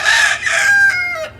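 Rooster giving a loud, close crowing call with a few clucking breaks, short and alone with no talk.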